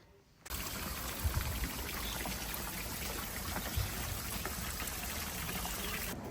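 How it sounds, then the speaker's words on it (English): Water trickles steadily into the basin of an old stone fountain planted with colorful water lilies in a public garden, a constant close splashing wash with no talk. "Beautiful old stone fountain, which they've tastefully placed different colors of water lilies into the basin of."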